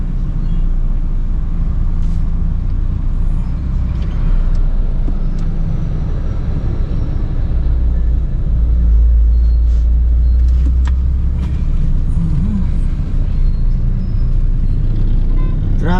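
Inside a moving car in light traffic on the way to a school, a steady, loud low road rumble continues, with passing vehicles swelling now and then.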